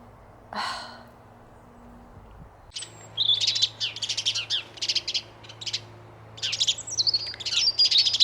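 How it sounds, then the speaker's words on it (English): Several birds squabble behind a person outdoors during a UK lockdown, bursts of sharp, rapid chirps and tweets coming in clustered volleys, fairly close and loud, after a single breathy sigh early on. "Some sort of bird argument going on behind me, I think."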